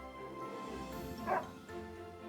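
A puppy in the video game Another Code: Recollection gives a single short yip over a steady layered music bed. The yip is brief and moderately clear.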